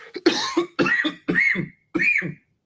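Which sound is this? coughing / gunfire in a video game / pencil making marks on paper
coughing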